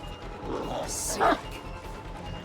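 In the Dead by Daylight video game, the Houndmaster's dog gives a short bark and yip, heard close against a steady game background while someone talks.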